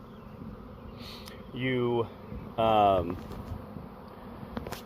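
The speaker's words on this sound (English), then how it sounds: "bees circle around that exhaust when they sense that queen pheromone" Honeybees swarm around the exhaust port of a bee vacuum during spring swarm season, their buzzing rising in two loud, close drones over a quieter background hum, with a brief spoken word.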